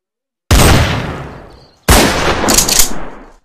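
Two loud gunshots in a video game, about a second apart, each a sharp blast that trails off, the second followed by a brief rattling tail.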